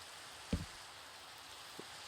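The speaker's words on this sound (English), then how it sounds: "I find the rain in Minecraft really annoying" Quiet, steady rain falls in the Minecraft survival game as a soft, even hiss, with two faint thuds breaking through. No one speaks.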